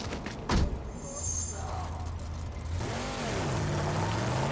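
A door thuds shut on a vehicle in the Mad Max video game, followed by an engine revving up and rising in pitch as it drives off, fairly quiet and close.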